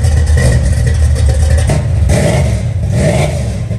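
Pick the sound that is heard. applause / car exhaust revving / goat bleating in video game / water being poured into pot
car exhaust revving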